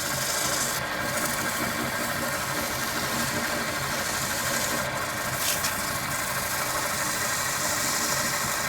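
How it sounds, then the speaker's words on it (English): Sandpaper wetted with a homemade shine mixture rubs steadily over a wooden box, producing a continuous, even scratchy hiss up close with no pauses. "I am sanding with Adobe Shine Juice,"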